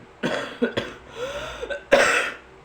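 Several rough, throaty coughs from someone with an ongoing cough come in quick bursts, close to the listener, with a short pause between the first group and a final harsher cough.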